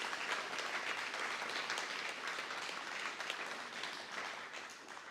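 A sustained wash of audience applause for a panel at a federal housing advocacy event, dense and steady from start to finish, moderately loud with no voices standing out.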